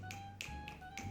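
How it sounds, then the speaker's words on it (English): Finger snaps from a poetry coffeehouse audience, used in place of clapping, four sharp, separate snaps spaced a few tenths of a second apart over a low steady room hum. "we use our theater version of clapping,"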